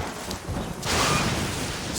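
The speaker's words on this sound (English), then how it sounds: "storm's getting worse" Thunderstorm in the video game Assassin's Creed Rogue, steady rain hiss with a deep rumble of thunder swelling in midway and holding loud to the end.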